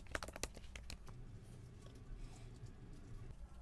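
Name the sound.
typing on a computer keyboard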